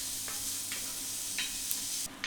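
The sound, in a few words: onion cooking in hot oil with salt, stirred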